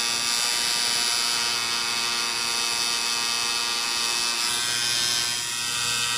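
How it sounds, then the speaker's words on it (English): A tattoo machine fitted with a 7-needle outliner buzzes in a steady, continuous electric drone, close and loud, holding an even pitch throughout with no voices. "This is being done with a 7-needle outliner"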